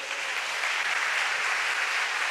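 Congregation applauding in a church during a Pentecostal sermon, a steady dense wash of hand claps filling the space without pause.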